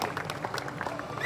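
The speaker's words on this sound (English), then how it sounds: "Please keep the claps going." An audience claps at a cricket tournament closing ceremony, a steady wash of moderate applause lasting a moment, somewhat distant and even.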